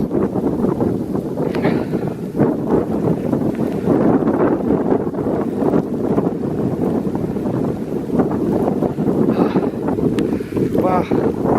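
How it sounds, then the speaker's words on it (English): Strong wind roars in a snow blizzard at a winter kennel, a steady loud broadband rush buffeting the microphone throughout, with someone talking over it. "Wow, snow's up past my knees and walking against the wind."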